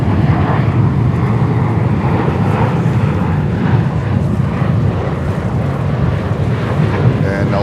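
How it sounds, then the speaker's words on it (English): An Air India Airbus A350-900 arrives at JFK airport, its jet roar a loud, broad, steady rumble mixed with strong wind buffeting on the microphone throughout. "And we have here Air India 350-900 coming in from Delhi."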